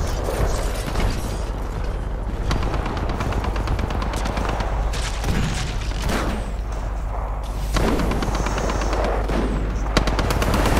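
Dense, loud gunfire from Titanfall 2 in a pre-alpha build: continuous rapid shots and mechanical clatter, with occasional heavier booms, sustained without a break.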